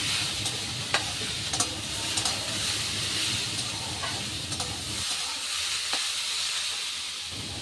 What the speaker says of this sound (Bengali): এই দেখুন আমি বেশ 2 মিনিট ধরে অনবরত নাড়াচাড়া করে একটু কষিয়ে নিয়েছি।